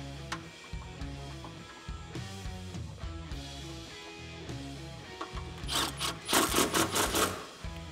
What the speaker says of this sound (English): Let's put our 10 millimeter bolt back in.